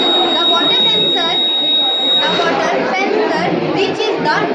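A buzzer alarm sounds from a student-built flood alert system model at a school science exhibition, a steady high tone holding for about two seconds over the loud chatter of a crowded hall.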